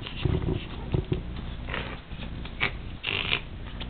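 A cat snorts repeatedly while pouncing back and forth at a toy, giving short, close, piggy nasal huffs in an irregular rhythm across a few seconds with no voices.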